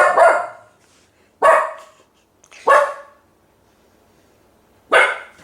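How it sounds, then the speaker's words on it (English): Dog barking at a package delivery at the front door, four sharp, loud barks spaced a second or two apart with silence between, close to the listener. "when you get a package and your dog barks"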